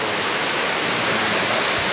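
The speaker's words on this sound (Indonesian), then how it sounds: "Air terjun ini air terjun spesial." Steady, broadband rush of the PungBunga waterfall in Tompobulu, Maros, a continuous hiss-like roar with no breaks or voices.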